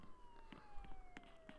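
A police car siren in the Roblox game Prison Life wails faintly as a slowly falling tone, with soft clicks and taps from the game around it.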